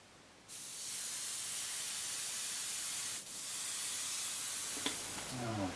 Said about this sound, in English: One of the beauties about the airbrush, getting stuff like this painted so quick